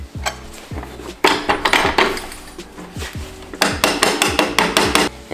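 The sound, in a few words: mallet tapping a bolt into a snowbike dolly mount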